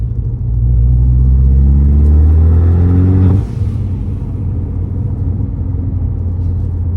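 A Ford Focus ST with a WWP aftermarket exhaust revs hard at full throttle, a loud close rising roar held for a few seconds before dropping back to a steady deep idle rumble.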